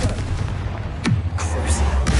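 Bombarda and Confringo explosion spells cast in the Hogwarts Legacy video game, a loud whooshing blast with a falling boom, then further bursts and rumbling impacts, dense and close.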